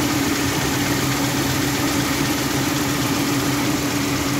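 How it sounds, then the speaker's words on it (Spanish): A replacement J20 engine in a 2002 Chevrolet Tracker idles steadily up close, a constant low hum and rumble with no pauses and no talk. "tenemos lo que es el motor que el cliente consiguió y está trabajando de la mejor manera posible"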